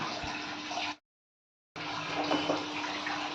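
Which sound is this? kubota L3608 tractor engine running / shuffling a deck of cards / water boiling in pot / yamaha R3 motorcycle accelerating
water boiling in pot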